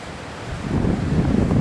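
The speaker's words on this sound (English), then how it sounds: "we can see some quite spectacular wave formations in the bay behind me" Ocean waves roll and break in a bay on the Atlantic coast, a broad rushing wash that swells louder after the first half second and holds steady, with wind noise buffeting the microphone and no voices.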